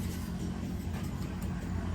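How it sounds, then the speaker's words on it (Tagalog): Vehicles pass on a highway just outside a roadside home, producing a faint, steady low rumble of engines with no voices over it. "Enjoy nyo na lang yung ingay ng mga sasakyan."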